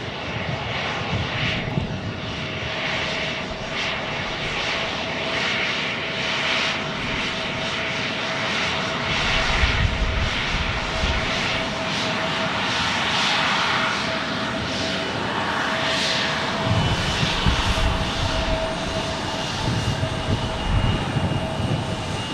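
Steady, loud aircraft engine roar at Tucson airport, home of F-16 jets, a continuous broad rumble lasting throughout with slight swells and no speech.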